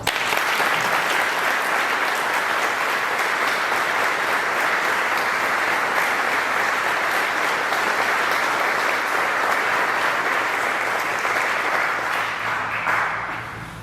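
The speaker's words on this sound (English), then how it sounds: "Let's give her one more round of applause." Sustained, steady applause from a sizable audience, loud and even for about fourteen seconds before tapering slightly at the end.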